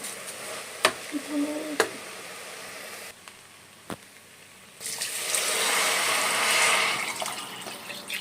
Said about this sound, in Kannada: ಇವಾಗ ನೀರು ಹಾಕಿ